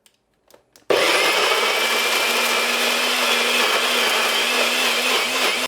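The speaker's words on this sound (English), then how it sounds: "All right, so let's grind these up." A blender grinds fermented shishito peppers into sauce, starting after a few small knocks and then running as a loud, steady whirring roar until it stops.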